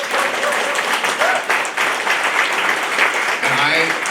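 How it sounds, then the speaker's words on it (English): A round of applause from an audience at a reconciliation gathering of artists, dense steady clapping at a fairly close, loud level, with a few voices faintly mixed in near the end. "we should have a huge round of applause for the survivors from the Isle Cross Residential School"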